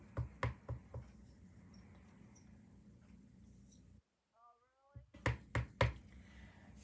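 A rubber stamp pressed onto paper at a craft table, several sharp close knocks in a quick cluster, a short quiet gap, then another burst of firm taps.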